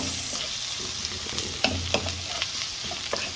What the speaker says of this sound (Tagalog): Then add onion. Ayan, nag-add na po ako ng sibuyas.